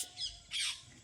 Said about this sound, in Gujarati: મસ્ત એવા પોપટ બોલે છે જો